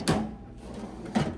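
A table drawer slides shut and open, giving two short wooden knocks about a second apart, fairly close and quiet with no talk.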